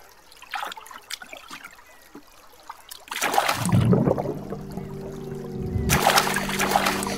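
After about three seconds of near quiet, a barrel plunges into fountain water, giving a sustained close gurgling, splashing rush that trickles on steadily to the end.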